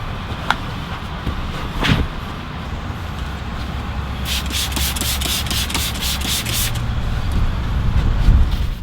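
Long-bristle brush scrubbing the interior of a dirty Ford F250 Super Duty, giving steady close rubbing and scratching with quicker strokes in the middle and a low background hum.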